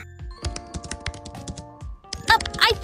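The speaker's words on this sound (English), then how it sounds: "I think he's typing something out in chat." Quick clattering keystrokes on a computer keyboard come in uneven bursts with short pauses, close and clear, ending in a brighter flurry of clicks.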